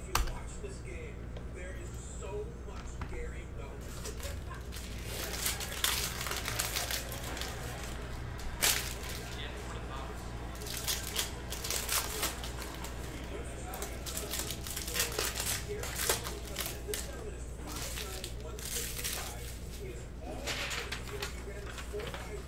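Panini Mosaic 2019-20 basketball cello card pack being torn open and handled, with crinkling wrapper and card shuffling under steady background room noise.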